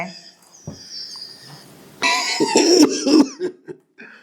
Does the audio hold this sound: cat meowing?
no